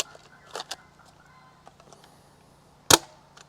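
An Adventure Force Aeon Pro foam dart blaster fires, with a quick double snap early on and a sharper, louder crack a couple of seconds later over a quiet low hum.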